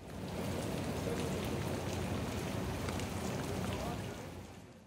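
Heavy rain shower in Antalya pours down in a dense, steady hiss, drumming on surfaces throughout before tapering slightly at the very end.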